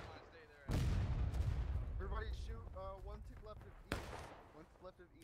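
Artillery fire in the Civil War game War of Rights: two loud, close cannon booms about three seconds apart, each with a sharp attack and rumbling tail, amid people talking.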